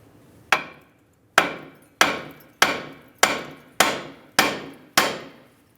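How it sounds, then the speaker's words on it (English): A hammer strikes a Ford Fusion steering knuckle at the ball joint eight times in a steady rhythm, each blow a sharp, close metallic whack that rings briefly and decays before the next, with no talking. "you can use a hammer."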